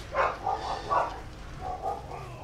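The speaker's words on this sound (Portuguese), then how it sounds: "meus cachorros decidiram ficar animadinhos" Several dogs at home let out a few short, fairly faint barks and yips in quick bursts, with a quieter pause between the groups.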